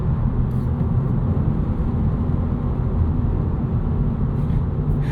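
A 2025 Honda Civic Si with a limited-slip differential is pushed hard through big sweeping corners. A steady, dense low engine and road drone holds loud and unbroken from inside the cabin, with no talking.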